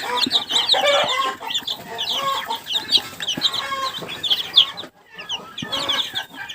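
A brooding hen and her chicks cluck and cheep in a lively, busy stream of close, overlapping calls, with irregular bursts and a short pause near the end, without any talk.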